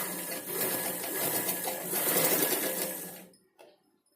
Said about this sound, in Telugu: ఇలా కింది వైపున స్టిచ్చింగ్ చేసుకోవాలి.